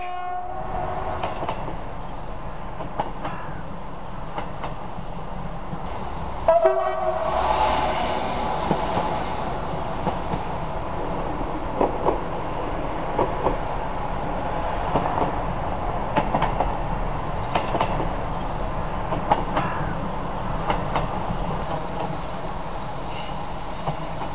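Picasso X-3800 railcar climbing a 25 per mil grade at about 60 km/h near Champagnole, a steady loud rumble of engine and wheels on rails throughout, with a sustained horn tone blowing partway through.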